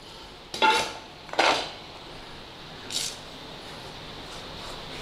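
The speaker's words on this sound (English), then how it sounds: "let's put our onions in a tub" Chopped onions tipped into a tub, two quick clattering knocks in close succession followed by a softer thud, otherwise a quiet room.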